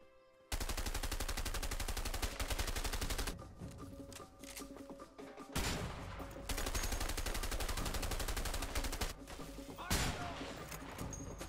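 Continuous rapid gunfire pounds in a shootout in the video game A Way Out, dense automatic volleys running almost unbroken with brief dips, loud and close.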